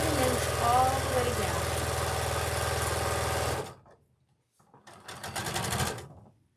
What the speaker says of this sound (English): Take it over to the sewing machine and sew that last seam, 1/4 of an inch